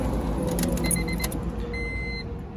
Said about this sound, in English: You insert the key,